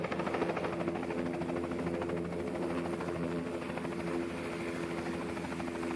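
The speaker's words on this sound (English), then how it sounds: "The Bell Long Ranger helicopter arrived right on time" Steady, loud Bell Long Ranger helicopter rotor thrum with a buzzing engine whine, sustained and unchanging as if hovering fairly close, in the wilderness by the Alsek River.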